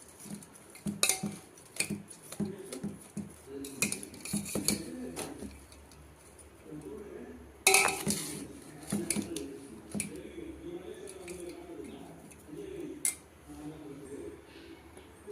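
A spoon clinks and scrapes softly inside a bowl while ragi vermicelli is stirred together with cane sugar, giving irregular small taps and one sharper knock over quiet room noise.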